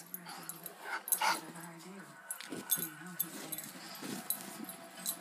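A pet dog whimpers and yips softly indoors, high thin whines coming in short bursts under quiet talking from nearby people.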